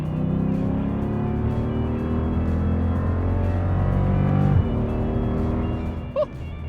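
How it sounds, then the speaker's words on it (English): An E85-fuelled 2014 Jeep Grand Cherokee SRT accelerates hard in fourth gear from inside the cabin, its engine droning loudly and rising steadily in pitch. Near the end it drops off sharply as the driver lets off. "We're gonna do a 4th gear pull here."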